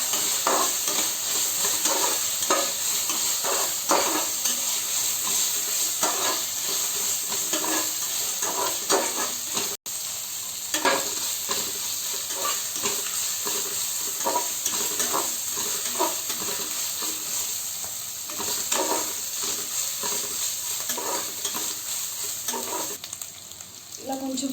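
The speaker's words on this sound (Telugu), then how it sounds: "ఇది ఫ్రై అవ్వనివ్వాలన్నమాట." Ginger garlic paste fries in a pan while being stirred, a continuous loud sizzle with steady hiss and repeated scraping stir strokes throughout, no talking.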